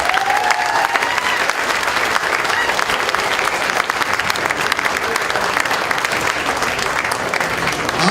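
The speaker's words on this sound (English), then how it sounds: "giving both of these candidates a round of applause for being here tonight" A crowd at a county party chair debate applauds the two candidates in a dense, sustained wash of clapping that holds evenly at moderate loudness throughout.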